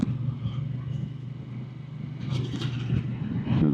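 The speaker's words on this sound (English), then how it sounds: "So, time to test the bike in the town and see how it performs in the town with a slower riding." A Norton Atlas 585cc motorcycle ridden slowly through town, its engine a steady low rumble throughout with a little rise toward the end, no talk over it.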